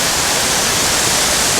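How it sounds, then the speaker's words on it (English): Benlister falls, a succession of waterfalls full of water, thunders down in a loud, unbroken roar, close and steady from start to finish with no other sounds. "a whole succession of waterfalls. Full of water, water thundering down"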